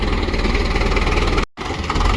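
A loud, steady rumbling tractor engine runs close by, with a brief cut-out near the end before the rumble resumes.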